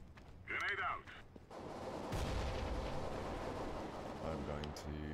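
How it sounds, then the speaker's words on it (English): A grenade explodes in Counter-Strike: Global Offensive on Xbox One. A brief voice comes first, then a loud, sudden blast trails off into a long rumbling roar. "Grenade out."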